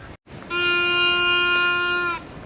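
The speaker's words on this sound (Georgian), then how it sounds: "აბა, გაისმა საყვირის ხმა და ვიწყებთ თევზაობას." A single steady horn blast sounds at a pond-side predator fishing tournament in Rustavi park, a loud tonal blare lasting under two seconds with no talk.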